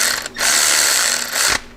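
A ratchet drives a brake caliper bolt back into a trike, giving a loud, close, rapid clicking burst that runs steadily for over a second, with a short pause near the start and a final click.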